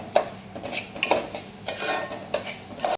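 A utensil stirs rice roasting in a pan for sweet ravli, giving repeated scraping and clinking strokes against the metal at an irregular pace, close and fairly clear, with no voices.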